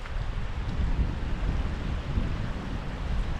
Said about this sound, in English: you can certainly feel that wind from here